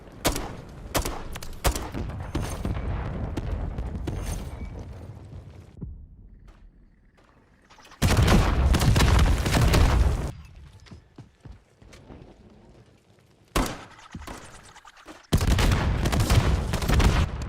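Rapid automatic gunfire in the video game Modern Warfare III comes in loud, dense bursts separated by quieter gaps with scattered single shots and mechanical clatter.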